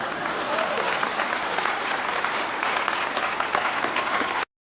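Audience applause after a presidential campaign speech line, a dense, even wash of clapping that holds steady, with faint crowd murmur and voices mixed in, then cuts off abruptly.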